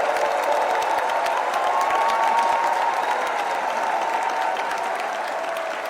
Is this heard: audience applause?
yes